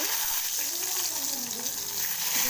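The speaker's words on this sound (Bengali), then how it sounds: "এখন আমি এখানে বেগুন ভাজবো" Brinjal frying in a pan gives a steady, broad sizzle that stays fairly loud and even throughout, with no voices.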